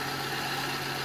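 A car engine idles as a steady, even hum with a low droning tone, heard close and unbroken for about a second with no talking.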